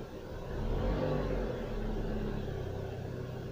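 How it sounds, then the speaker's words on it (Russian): A Renault engine runs at a steady idle after throttle body and intake manifold gasket replacement, a low, even hum with a slight rise in revs early on and no talk over it. "И пробуем запускать двигатель"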